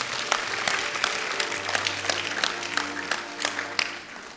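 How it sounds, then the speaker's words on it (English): Congregation clapping hands during a church service: a brisk, continuous patter of many hands with a few sharper individual claps, a low hum running beneath. "Clap your hands to the name of the Lord."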